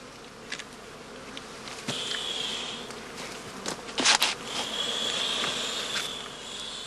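Bees buzz around a straw skep hive outdoors, a continuous close drone with passing swells as individuals fly by, punctuated by a few scattered taps and rustles.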